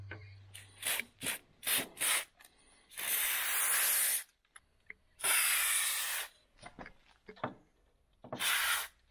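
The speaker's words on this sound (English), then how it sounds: "I'm going to spray the channels with this, and show you how much easier it is for the door to slide" Bursts of hissing aerosol lubricant spray into a campervan's sliding door channels alternate with short scraping and rubbing sounds, a few seconds of spraying at a time with pauses between.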